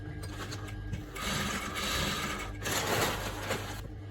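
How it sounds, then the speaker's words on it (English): A sewing machine stitches joined bra cup pieces with a half-inch seam allowance, its mechanical whirring steady and close, rising in two longer bursts of running stitches. "Start sewing from the down with the 1/2 inch allowance that you added"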